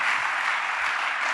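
A church congregation claps together in a dense, even wash of applause, steady and moderately close, continuing for the whole moment without voices standing out.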